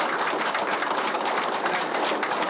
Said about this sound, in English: just a round of applause, please, for these powerful speakers